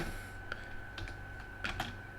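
Soft keyboard typing, a few scattered key clicks and taps over a steady low background hum, close and quiet.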